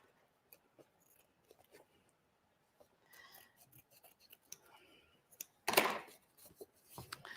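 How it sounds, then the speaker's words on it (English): Scissors cutting cardstock for an embroidered Christmas card: scattered quiet snips and rustles, then one sharp, louder cut near the end, in a quiet room. "so I'm just going to use the scissors"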